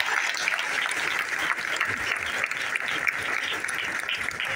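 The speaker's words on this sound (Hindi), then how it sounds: "उनके लिए हमारे पुराने लोग एक बार जोरदार ताली हो जाता है, जोरदार।" A seated audience at a business stage-sharing event in Thane claps loudly and continuously, a dense sustained burst of applause from many hands with no pauses.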